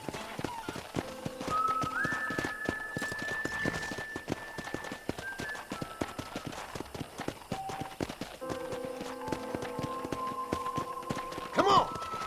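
Horse hooves clip-clop at a steady walking pace on a ranch in the Western video game Red Dead Redemption, close and rhythmic with occasional thunks and soft game tones underneath.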